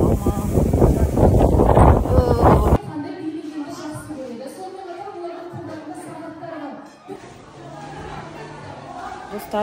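Cold wind blows outdoors by the sea near a Rixos resort, buffeting hard at first, then dropping to a lower, steady rush with voices chattering underneath.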